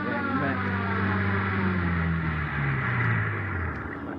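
A police car siren wails steadily and loudly in an old radio crime drama, a continuous droning tone sweeping slowly in pitch over engine rumble, with no talk.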